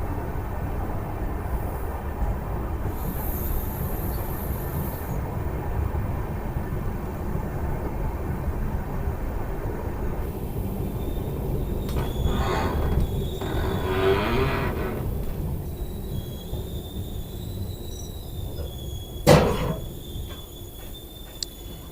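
Mussoorie Express LHB passenger train rolling along the tracks, a steady low rumble and rattle heard from inside a coach for over twenty seconds, with a brief sharp knock near the end.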